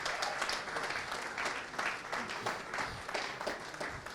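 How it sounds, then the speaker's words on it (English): An audience at a career talk applauds a speaker walking to the microphone, giving a steady, fairly distant wash of clapping that fills the whole stretch without talk. "Please clap for him as he comes."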